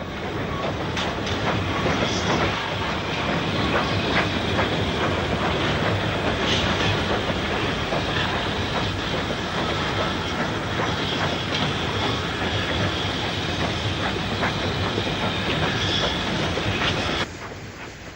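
A steam freight train rumbles steadily past at close range with clattering wheels and a dense roar, cutting off abruptly near the end.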